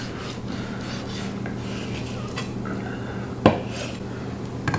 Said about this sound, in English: I'm going to maybe just try cutting a brisket steak off of this